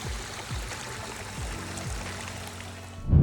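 Water spills over a pondless waterfall stream in a garden, a steady close splashing trickle with a gentle continuous wash and a louder splash at the end.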